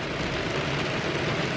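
Steady rain falls on and around a 2017 Tesla, a dense continuous hiss of drops drumming close by on the car's surfaces with no talking.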